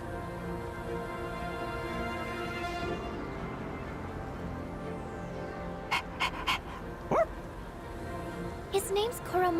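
Koromaru, a dog in a video game, pants steadily and then lets out several short yips and barks in quick succession near the end, with game music or ambience running beneath.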